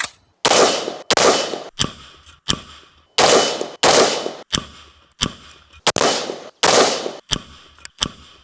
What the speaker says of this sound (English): First shots are made and it's goddamn good.